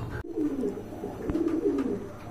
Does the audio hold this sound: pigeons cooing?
yes